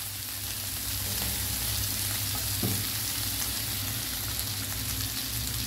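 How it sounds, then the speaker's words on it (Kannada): Lengthwise-cut tomatoes frying in a little oil on a gas stove, a steady dense sizzle that holds evenly throughout with one brief stir. "ಈಗ ನಾನು 4 ಟೊಮೆಟೊವನ್ನು ಉದ್ದಕ್ಕೆ ಹೆಚ್ಚಿ ತಂದಿದ್ದೇನೆ ರಫ್ಲಿ. ಇದನ್ನು ನಾವೀಗ ಫ್ರೈ ಮಾಡುವ"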